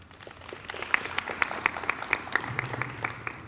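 Scattered, thin clapping from a small audience, a few dozen sharp claps at an uneven pace that never builds into a full ovation.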